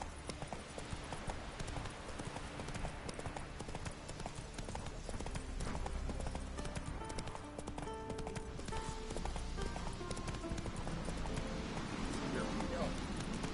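In The Witcher 3 on PS4, a horse gallops with a continuous rhythmic clip-clop of hooves, mixed with game ambience and occasional spoken voices.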